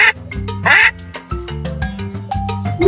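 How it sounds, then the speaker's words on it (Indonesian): A duck quacks in short, loud bursts, several calls in quick succession with brief gaps between them, standing alone with no voices over it. "Bebek."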